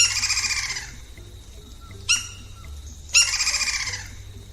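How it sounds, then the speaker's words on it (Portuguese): A red-crested woodpecker, also called the lineated woodpecker, from Brazil gives loud, bright calls: a rapid repeated burst, a short sharp note, then another rattling series, close and clear over faint background hum. "uma das espécies mais comuns do Brasil é o pica-pau de topete vermelho"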